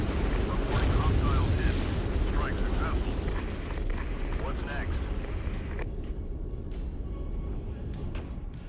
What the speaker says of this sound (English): we'll just let the mortars keep doing their thing